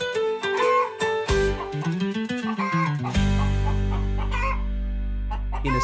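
Hens cluck near a henhouse in a busy, overlapping chorus of loud calls, followed by a sustained low droning hum.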